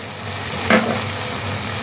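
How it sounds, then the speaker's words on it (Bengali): Tomato is stirred and fried in a spice paste of Kashmiri chilli powder and oil for Bengali tel koi fish curry, giving a steady close sizzle with a brief louder scrape of the spoon partway through. "টমেটোটাকে এইভাবে নাড়িয়ে যাব যাতে টমেটোর কাঁচা গন্ধটা চলে যায়"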